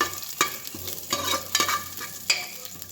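Grated ginger and green chili frying in hot oil, a steady sizzle broken by several sharp scraping stirs of a spatula against the pan, close and fairly loud with no voices.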